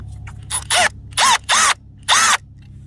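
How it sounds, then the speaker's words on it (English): A Milwaukee M12 drill starting a dimple in a broken screw on a Suzuki LT125, four short, loud whirring bursts close up, each ending in a falling pitch as the trigger releases. "we're going to take our drill bit"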